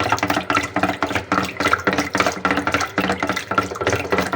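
Lassi being churned by hand in a pot, giving rapid rhythmic sloshing and swishing liquid strokes, close and steady with no talking.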